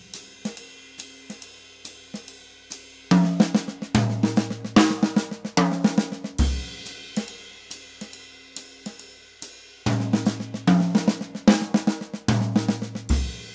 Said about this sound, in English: the paradiddle-diddle, that would sound like this.